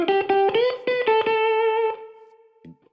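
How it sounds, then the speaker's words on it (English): Plucked electric guitar notes ring out in a short phrase, then a long convolution reverb tail slowly fades, followed by a few soft, quiet plucks. "Nice long reverb tail, but very different again to that kind of bluesy vibe"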